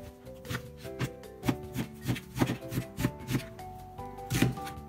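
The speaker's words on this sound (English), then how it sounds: "Now cut the onion." A knife chops an onion on a cutting board while preparing sea bream acqua pazza, producing a quick series of crisp, evenly spaced cuts at close range with no talking.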